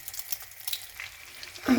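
Cauliflower florets coated in flour and egg fry in a pan with a soft, faint crackling sizzle that ends in a brief louder spatter.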